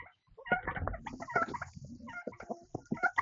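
Several chickens cluck and squawk in short bursts nearby, with no talking.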